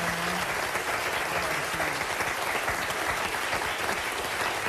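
Steady applause from a talk-show studio audience fills the whole stretch, dense and even with no clear break.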